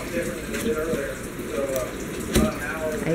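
Tap water runs into a sink in a home while baby items are washed, a steady close splashing flow with occasional clatters, while people talk over it.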